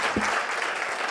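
Audience applause for Pascal Demurger, director general of MAIF, at a conference on mission-driven companies, a short burst of steady clapping from a crowd.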